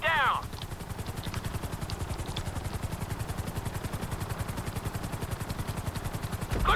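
Helicopter rotor chopping steadily throughout in the video game GTA 5 during a flight school lesson, a loud continuous rhythmic thrum with brief higher tones at the start and end.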